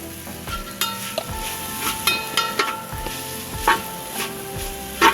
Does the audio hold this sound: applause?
no